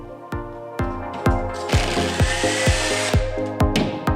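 A power drill bores holes into a wall for mounting laminate rails, giving a series of short sharp bursts, each spinning up and cutting off, then one longer steady run of drilling, loud and close.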